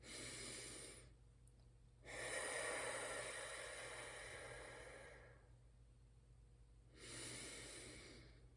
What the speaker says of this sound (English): let's breathe together